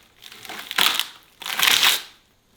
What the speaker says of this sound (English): we're going to start removing this bark.